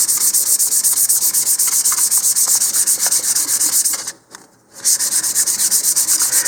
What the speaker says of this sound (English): go ahead and sand the entire nose so it's uniformly sanded.